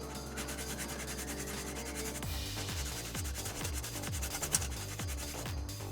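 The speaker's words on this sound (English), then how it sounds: "I'll just use these 120 grit sanding sponges and just have a very light touch" A 120 grit sanding sponge rubs lightly over a styrene-modified plastic model kit torso, giving steady rhythmic scratchy strokes with a dull low thump at each pass, close and fairly loud with no talking.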